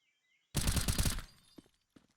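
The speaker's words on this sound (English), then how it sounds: "Shots come out." A quick burst of rapid gunfire from a Counter-Strike match in a competitive esports qualifier, loud and close for under a second, followed by a couple of faint trailing clicks.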